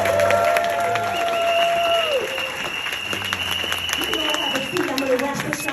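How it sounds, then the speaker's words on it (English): Banquet audience at an NAACP Freedom Fund dinner breaks into sustained applause with some cheering, crowd noise filling the room steadily for several seconds, with a voice heard faintly underneath. "Give yourselves a round of applause."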